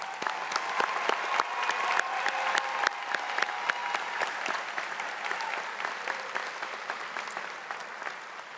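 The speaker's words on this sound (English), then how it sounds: "Please join me in one more round of applause." A large audience at a university graduate commencement ceremony breaks into sustained, dense applause that holds steady throughout and eases off only slightly toward the end.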